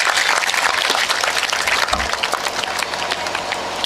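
A seated crowd at a Marathi political talk on farmers claps to welcome an arriving guest, giving dense, even applause that holds loud and steady for the full few seconds with no speech over it.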